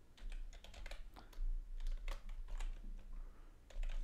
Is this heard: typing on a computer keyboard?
yes